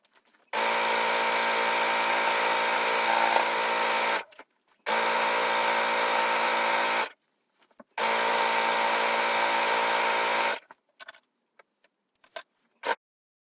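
A sewing machine stitches a pinafore seam in three sustained close, loud bursts of fast, even whirring, each separated by short pauses, followed by a few faint clicks.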